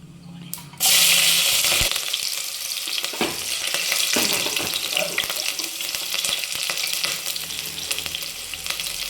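Fennel seeds, cinnamon, cloves, bay leaves and green chilies drop into hot oil for a mutton kuzhambu, bursting into a loud sizzle with crackles and occasional stirring scrapes that continues steadily.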